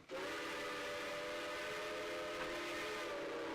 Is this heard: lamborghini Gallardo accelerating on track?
no